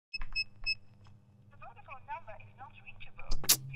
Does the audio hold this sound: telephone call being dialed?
yes